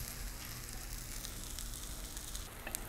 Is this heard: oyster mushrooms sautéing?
yes